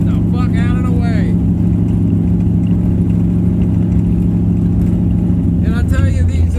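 A 1980 Jeep CJ7 with a V8 and loud exhaust pipes rumbles steadily at close range, a deep constant engine drone throughout, with someone talking over it at the start and end.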